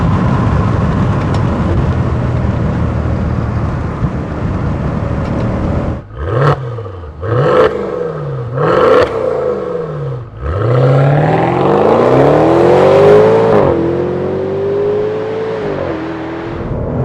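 A high-mileage, rebuilt Maserati Quattroporte GTS engine blips three times in quick succession, then revs up in one long, loud, rising pull before easing off, heard up close with no talk.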